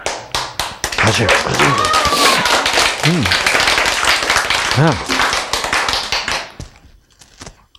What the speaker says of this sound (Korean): 왜 박수 쳐요?